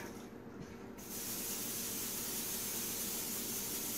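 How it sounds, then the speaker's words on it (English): Cooking spray hisses from a can into a non-stick mini muffin tin, a close, steady spray that starts after a brief quiet moment and runs continuously for several seconds. "All I do is a little bit of cooking spray for all of it."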